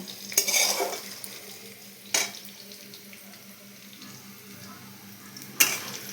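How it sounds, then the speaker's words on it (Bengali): Potatoes fry in a pan until reddish-brown, a steady low sizzle running underneath while a spoon stirs and scrapes in a few sharp bursts, close and clear with no talking. "লাল লাল করে আলু ভাজা হচ্ছে"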